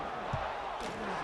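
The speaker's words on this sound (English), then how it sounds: "this crowd is buzzing after that last score" Stadium crowd in the College Football 26 video game buzzing after a score during a Boise State dynasty game, a steady, dense roar with a brief thump partway through.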